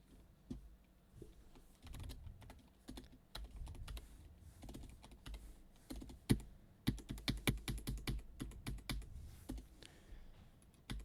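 Rapid bursts of keystrokes on a computer keyboard with no speech, the clacks thickening into dense, loud runs in the second half amid a low room hum.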